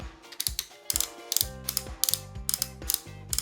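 Ratcheting joints of a metal Cardbots toy robot being worked, giving a run of sharp, close clicking bursts in quick uneven groups, with no voices.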